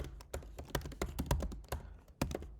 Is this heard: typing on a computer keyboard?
yes